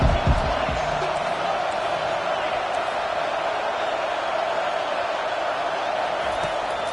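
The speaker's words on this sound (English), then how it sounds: "this crowd coming to life here trying to help the defense get a stop" Stadium crowd at an Alabama vs Florida college football game, a steady loud roar of cheering that holds for the whole stretch, with a few thumps near the start.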